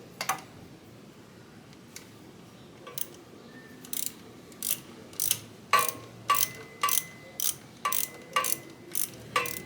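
A ratchet backs screws out of a BMW F800GT motorcycle during a heat exchanger gasket replacement, giving sparse clicks at first, then a steady run of about a dozen sharp, close ratcheting bursts with no talk.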